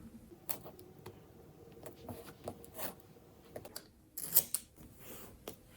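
Tea-time washi tape is snipped and pressed onto a planner page: quiet, close scissor snips and small taps and rubs scattered irregularly, with a sharper crisp tearing burst near the end and no talk.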